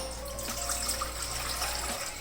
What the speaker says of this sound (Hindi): और यहाँ पे मैंने ले लिया एक सॉस पैन और उसके अंदर तकरीबन मैं डाल दूँगी 2 गिलास के जितना पानी